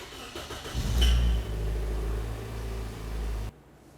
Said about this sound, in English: let's go ahead and start up the car, let it run for approximately 30 seconds and turn it off